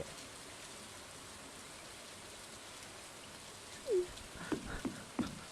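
Steady, soft rain hisses in Stardew Valley as a continuous background wash, with a few brief louder game blips near the end and no talking.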